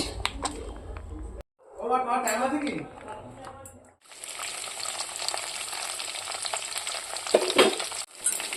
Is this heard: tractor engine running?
no